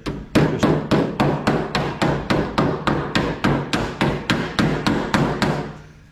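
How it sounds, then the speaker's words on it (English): Metal is struck repeatedly with a hammer against a dolly along the edge of a classic Mini door skin, about sixteen evenly spaced ringing blows at a steady rhythm, loud and close. "tidy this edge up along there, literally just with a hammer and dolly"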